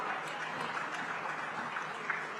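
Audience applause at a panel session of the 18th Pravasi Bharatiya Divas: a steady, even wash of clapping from a crowd, fairly faint and distant, continuing without a break.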